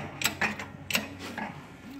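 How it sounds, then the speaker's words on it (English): A press forces a bolt through a downhill bicycle fork against a strong spring, giving a few close mechanical creaks and ratcheting clicks over a steady low hum. "So I pushed it in with the press"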